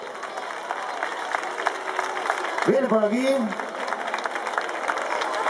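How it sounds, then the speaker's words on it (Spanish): Applause rolls on steadily from an audience at the crowning of the festival queen for San Miguel fiestas in Armilla, 2012, while a voice speaks over the clapping midway through. "¡Que suba y un fuerte aplauso a ellos!"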